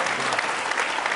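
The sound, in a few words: audience applause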